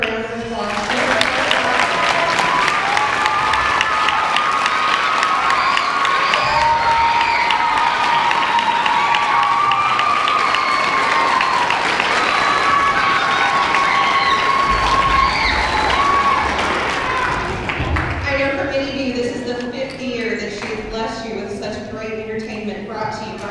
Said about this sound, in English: So if we can please give her another round of applause.